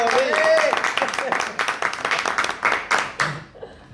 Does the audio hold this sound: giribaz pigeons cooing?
no